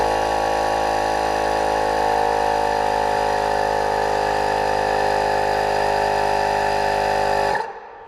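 Air is pumped into a Shocker air ride trailer hitch, producing a loud, steady mechanical drone from the inflating pump that runs unbroken for several seconds before abruptly cutting off, with no voices.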